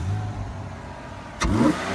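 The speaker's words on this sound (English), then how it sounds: "I'll give you a little rev." A 2002 Ford Escape XLT engine idles low, then gives one sharp, brief rev that surges and falls back to idle, close and loud.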